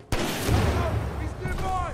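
A frag grenade detonates in the shooter Titanfall 2 as a single sudden, loud blast. A rumbling tail and scattered combat noise follow over the next two seconds.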